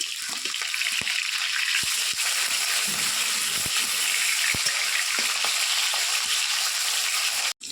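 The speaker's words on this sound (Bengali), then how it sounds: "মাছগুলো ভেজে নেব।" Rohu fish pieces rubbed with salt and turmeric frying in hot oil, a steady dense sizzle with scattered sharp pops and spatters, close and continuous until it cuts off abruptly at the end.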